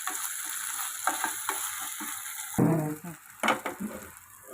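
Tomato pieces fry in a pan with onions for a gongura chicken curry, crackling and sizzling up close as a spatula stirs and clatters, and the frying grows louder partway through once they are stirred in.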